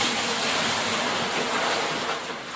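Water gushes from a 5-gallon bucket into a tub, a loud, dense, steady splashing rush lasting a couple of seconds before easing slightly at the end.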